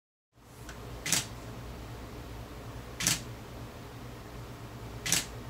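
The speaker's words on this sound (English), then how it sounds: "You can hear the camera shutter click about once every second." A DSLR camera shutter, triggered by a homemade Arduino intervalometer, clicks three times at roughly even intervals, each click crisp and close against a faint steady hum.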